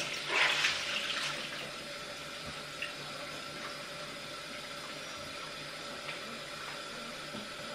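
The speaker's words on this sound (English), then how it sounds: "When I'm doing this, I have to leave the water running, so I apologize." Tap water runs steadily into a bathroom sink, loudest in the first second with a splashing burst, then a continuous even flow with a few small clinks, no talking.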